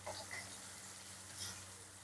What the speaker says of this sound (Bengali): মাছগুলো আমার সুন্দর করে লাল লাল করে ভাজা হয়ে গেছে